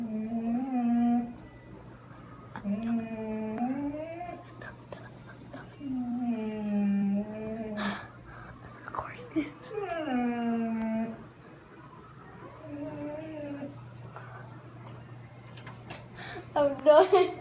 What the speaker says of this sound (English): She was like, she was like halfway to barking and she just didn't do it,